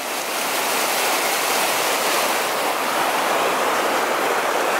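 High, fast-flowing stream water rushing steadily and loudly, a dense broadband roar with no voices, like swollen creek current in a small fishing spot.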